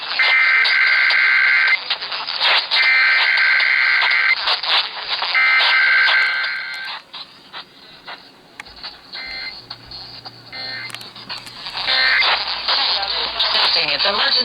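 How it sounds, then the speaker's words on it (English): Emergency Alert System test tones on KDKA-AM radio in Pittsburgh sound as loud, repeated harsh data bursts over the broadcast, then a spoken announcement with a steady attention tone beneath. "test of the emergency alert system."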